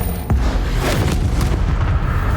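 A Bombarda blasting spell cast in Hogwarts Legacy gives one sharp, booming explosion near the start, followed by a rumbling, crackling tail.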